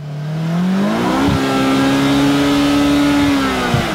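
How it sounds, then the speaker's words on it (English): Polaris Slingshot engine revving up into high RPM, a loud rising mechanical drone that climbs quickly and then holds steady near the top of the range, heard close and alone. "It just feels like you could rev for days"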